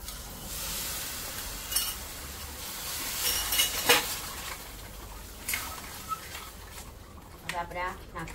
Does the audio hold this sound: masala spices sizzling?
yes